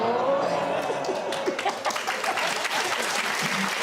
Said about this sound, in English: For that, round of applause.